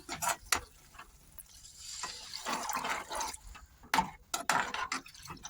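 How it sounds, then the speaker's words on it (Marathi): Water poured into spice masala frying in a pan for dum aloo, giving uneven bursts of hissing sizzle and splashing that rise and fade close by, with no talking. "आता याच्यात आपण पाणी टाकूया"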